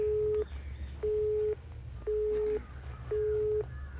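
A telephone busy tone sounds after a call is cut off: four evenly spaced, steady beeps, each about half a second long, heard over a faint low background hum.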